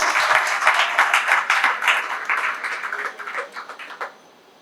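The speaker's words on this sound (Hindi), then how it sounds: "एक बार जोरदार ताली बजा दें।" An audience at a Hindu religious gathering claps loudly and steadily for several seconds, a dense wash of applause that fades out near the end.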